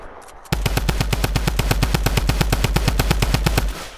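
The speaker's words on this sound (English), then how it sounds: "Oh, yeah, they're shooting at us." Loud, close automatic gunfire in the military shooter game Squad: a sustained rapid burst of evenly spaced shots that starts abruptly and runs for about three seconds.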